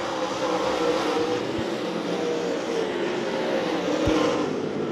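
USRA modified race cars at Devil's Bowl Speedway, a continuous engine roar of several cars racing, loud and steady with a couple of sharp low thumps.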